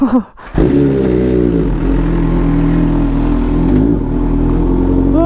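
A Z H2 sport motorcycle engine revs loudly and steadily close by before dawn, a deep sustained roar with rising and falling pitch, after a brief dip at the start.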